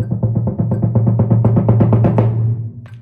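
A timpani plays a steady sixlet roll for four beats, a dense even train of quick booming strokes over a ringing low pitch that swells louder, close up and alone.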